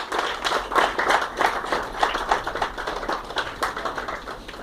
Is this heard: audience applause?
yes